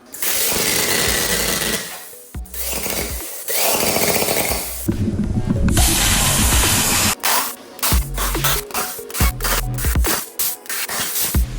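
A Vevor CUT50P plasma cutter run from a small compressor and aimed at an aluminum Coke can, producing a loud, harsh hissing blast that breaks into choppy bursts and stutters, close and alone without voices.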